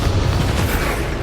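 A Bombarda spell explosion in the video game Hogwarts Legacy, a dense, loud booming blast that fills the moment and holds steady without a clear tail.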